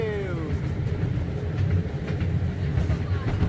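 A small ride train at a religious and cultural exhibition rumbles along with a steady rolling clatter and a few squeals, loud and close throughout.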